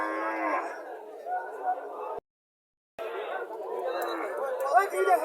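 Indigenous cows and a Holstein Friesian dairy cow on a farm in Barura, Comilla, moo with long low calls amid steady chatter from a nearby crowd, with a brief silent break midway.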